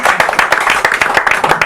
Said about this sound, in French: Est-ce qu'on peut applaudir déjà pour cette